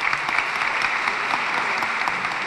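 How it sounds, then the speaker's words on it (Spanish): Continuous crowd applause fills an immigration town hall in a Santa Ana high school, a dense, even roar of many hands clapping at moderate distance, with no talking on top. "Un aplauso para ella, por favor."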